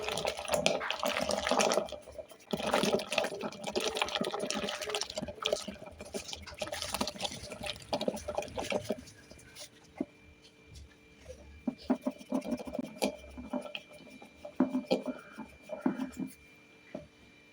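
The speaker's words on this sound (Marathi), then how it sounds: "आता पुन्हा एकदा घुसळायला सुरुवात करूया" Butter being churned by hand in a pot of cream and water to make ghee: rapid, rhythmic sloshing and knocking bursts, dense and close at first, then thinner and more intermittent.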